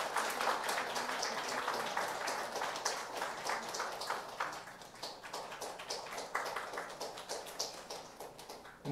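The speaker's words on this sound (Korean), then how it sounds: "큰 박수로" A church congregation claps during a Sunday service flower presentation, a fairly distant, steady round of hand claps that loosens into scattered rhythmic claps toward the end.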